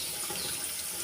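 Warm water runs steadily from a tap over a chicken being rinsed, a continuous close hiss of flowing water with no pauses.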